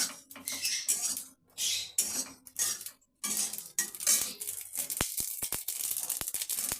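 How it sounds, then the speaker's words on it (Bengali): Cumin, nigella, mustard seeds, fennel and dried chilli dry-roasted in an oil-free wok, heard as close, irregular bursts of scraping and rattling from stirring, then a run of sharp, crisp ticks and pops, no talking. "আমি শুকনো কড়াই ভেজে নেব"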